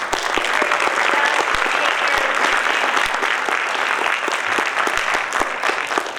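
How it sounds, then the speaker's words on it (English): At a middle school information evening, an audience claps for a panel, full and steady applause from a roomful of people with a few sharp individual claps standing out close by. "I'd like to thank our panel and give them a round of applause"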